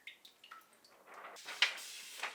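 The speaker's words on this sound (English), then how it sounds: "Take apart the reel and rinse the film thoroughly in water." Water splashes and drips during the rinse of freshly developed black-and-white film taken off its reel at home, a run of small close drips and trickles building into a brief louder splash.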